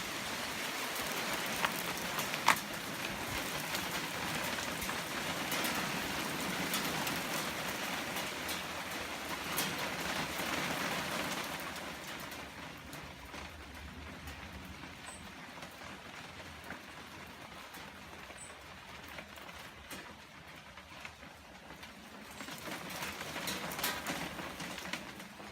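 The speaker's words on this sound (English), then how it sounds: "The rain's really starting to come down" Rain falling outdoors, a steady hiss of drops on surfaces that is louder in the first half and eases somewhat later, faint and continuous with no voices.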